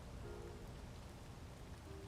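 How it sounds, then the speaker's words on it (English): Rain falls steadily in the video game Space Engineers as an even, faint hiss of drops with no talking and no pauses. "so this rain, I really can't see anything at the moment"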